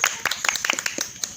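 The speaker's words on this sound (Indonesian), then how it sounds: "Oke, bagus sekali, tepuk tangan." Brief scattered applause from a small group of students in a Qur'an lesson classroom, uneven close hand claps for about a second.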